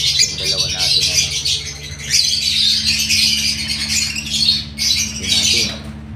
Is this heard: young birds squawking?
yes